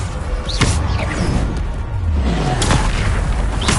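A Descendo spell strikes in Hogwarts Legacy: a loud, heavy boom with whooshing bursts and rumbling low-end impacts rolling through nearly four seconds of dense game action.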